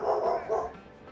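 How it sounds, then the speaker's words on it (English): An excitable puppy yips in the background, two quick barks of moderate loudness and then a trailing whimper. "Ignore the very excitable puppy in the background."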